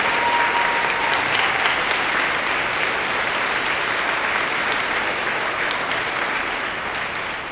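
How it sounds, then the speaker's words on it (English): A crowd at a high school boys basketball game, Ogemaw at Cadillac, rises in a standing ovation, dense continuous clapping filling the gym and slowly easing off toward the end. "We got the crowd standing up right now, giving him a standing ovation."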